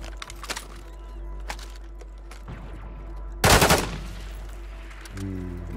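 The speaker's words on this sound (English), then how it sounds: "I'm just testing out this guy's gun." A gun test-fired in a video game lets off scattered single cracks, then a loud, dense burst of rapid fire in the middle, over a steady low hum.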